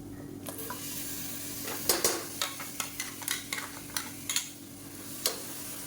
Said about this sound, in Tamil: இதையும் சேர்த்துட்டு நல்லா எண்ணெய் புரிஞ்சு வர அளவுக்கு நல்லா வதக்கி விட்டுக்கலாம்